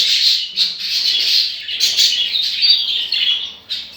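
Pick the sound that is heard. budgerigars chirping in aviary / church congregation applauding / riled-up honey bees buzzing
budgerigars chirping in aviary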